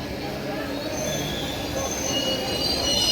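Wheels of the Nagawali Super Fast Express, an LHB-coach train, squeal in a steady, high metallic whine that slowly grows louder over a low rumbling rail roar, with no talking.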